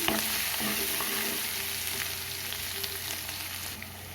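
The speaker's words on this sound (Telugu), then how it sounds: "అది ఒక్క నిమిషం వేగనిద్దాం దీన్ని" Onion and spice paste fries in a pan for fish curry with a steady close sizzle, broken by a few soft scrapes as it is stirred, continuous throughout with no voices.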